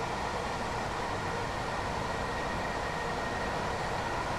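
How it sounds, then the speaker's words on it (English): Gatwick Express train accelerating in the game Train Sim World 2, heard as a steady, even rumbling roar from inside the cab with no talking. "you can tell just by the sound that the train's accelerating"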